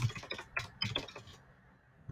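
A computer keyboard being typed on: a quick run of light, close key clicks in an uneven rhythm for about a second, then trailing off into near quiet.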